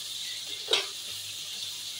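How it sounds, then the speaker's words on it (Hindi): Chicken frying with ginger and garlic in a karahi, a steady close hiss with one brief louder sizzle burst as the pan is stirred, no voices. "तकरीबन 2 मिनट हो गए हमारे चिकन को अदरक लहसुन डाल के हमने इसको फ्राई करते हुए"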